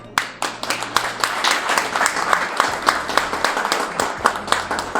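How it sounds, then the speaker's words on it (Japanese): Seminar audience in Hiroshima clapping to welcome a speaker on stage, a lively burst of many hands with crisp individual claps standing out, steady and fairly close throughout. "皆様拍手でお迎えください"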